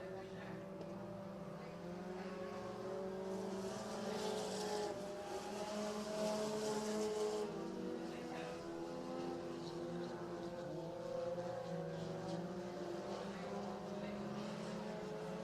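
Race cars lap an oval track at The Rev, their engines droning faintly in a continuous, rising and falling whine from a distance.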